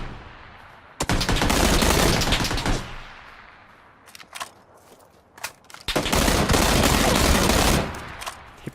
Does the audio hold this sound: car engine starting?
no